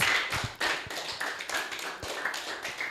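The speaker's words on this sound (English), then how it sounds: "round of applause for yourselves" High school students at an educational seminar give themselves a round of applause, a dense, lively patter of many hands clapping steadily throughout at moderate distance.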